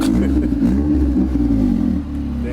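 A lowered car's engine with a failing exhaust revs loudly and steadily up close, its low growl rising and falling slightly before easing off near the end.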